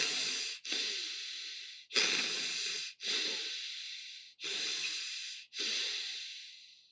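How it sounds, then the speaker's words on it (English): Wim Hof style breathing, six forceful quick breaths through the mouth in a steady rhythm. Each breath is a loud, close rush of air with short gaps between, and no one speaks. "you forcefully and quickly inhale and exhale 30 times"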